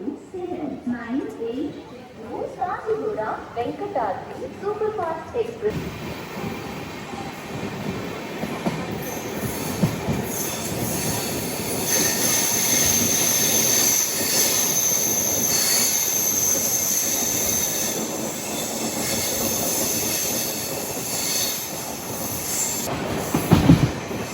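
A long-distance passenger train on the Pune to Kanyakumari route rumbles steadily along the rails with high metallic wheel squeal, loud and close from inside; voices talk briefly at the start before the rolling noise takes over.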